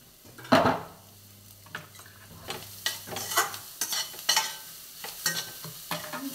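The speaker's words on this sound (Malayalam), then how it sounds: "അതിനകത്തേക്ക് നമുക്ക് തേങ്ങ വറുത്തെടുക്കാം" Grated coconut roasts in a little coconut oil while a spoon stirs and scrapes the pan in repeated strokes, with a soft sizzle underneath, close and clear, with no voices.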